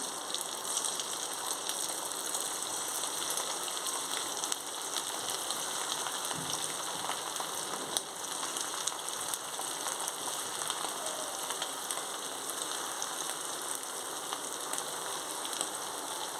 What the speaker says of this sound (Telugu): ఇప్పుడు మనం ఇవి డీప్ ఫ్రై చేసుకుందాం కళాయి పెట్టుకొని ఆయిల్ వేసుకున్నానండి ఆయిల్ హీట్ ఎక్కింది